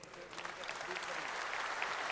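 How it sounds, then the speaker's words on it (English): An audience at the EMC World 2015 keynote breaks into applause for an arriving guest, a dense, steady clatter of many hands that builds slightly over about two seconds. "Please give a huge round of applause for Dirk Ruger from BMW."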